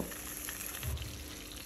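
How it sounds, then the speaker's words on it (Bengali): Mackerel fillets frying in vegetable oil at medium heat hiss and crackle in a close, continuous sizzle with no pauses. "আর মিডিয়াম আছে এপিট ওপিট পাঁচ মিনিটের জন্য মাছগুলিকে ভেজে নিব"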